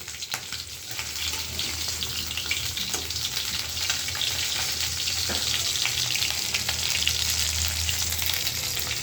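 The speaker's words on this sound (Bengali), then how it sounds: "তো মাছগুলো ভাজতে থাকি" Fish pieces fry in a pan with a loud, dense, continuous sizzle and crackle that holds steady throughout, with a few faint clinks underneath.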